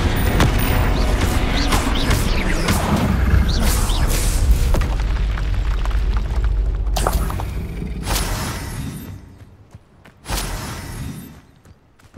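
Fire spell effects from the Hogwarts Legacy video game erupt with booming, crackling bursts during combat. Dense, loud blasts fill the first seven seconds, then shorter bursts follow with quieter gaps between them.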